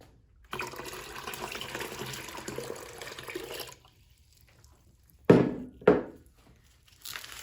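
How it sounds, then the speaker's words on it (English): Water pours from a container into a bucket in a steady gush lasting about three seconds, followed by two short splashing pours and the start of another. "I'm going to add the 16 cups of water to my bucket"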